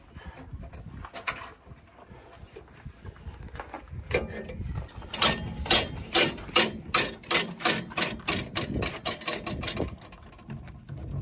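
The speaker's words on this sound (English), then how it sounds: "And I can't believe, Adam, you grabbed the grease gun that actually has grease in it." A grease gun is pumped by hand at harvest time, giving a run of about a dozen sharp, evenly spaced mechanical clacks and squeaks that speed into a steady rhythm, close and fairly loud over faint background noise.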